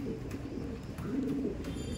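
A Madrasi pigeon coos softly nearby, a low rolling call heard among faint background rustle, with no speech.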